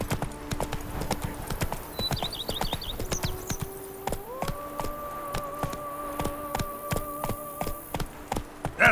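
Roach, a horse in the video game The Witcher 3, gallops with brisk, rhythmic hoof clip-clops close by, set against game music with sustained tones and a brief whinny-like flourish, and no talk over it.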